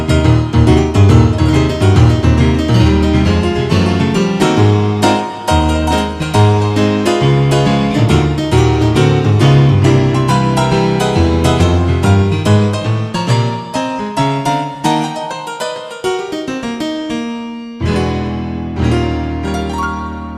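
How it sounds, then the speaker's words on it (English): A bright wide-body piano sample on a Casio MZ-2000 keyboard, slightly detuned, plays a dense run of chords and melody for about twenty seconds, loud and continuous with a brief pause near the end. "here's bright piano, which is a wide body piano. And let's see, let's detune it a little bit."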